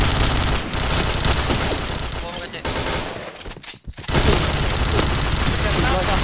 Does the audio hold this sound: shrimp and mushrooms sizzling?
no